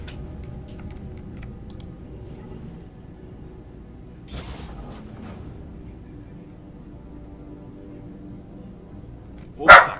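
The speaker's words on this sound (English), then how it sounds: "Sorry about the dog." A dog barks indoors, with faint yips partway through and one sharp, louder bark near the end, over a quiet room with soft computer keyboard typing.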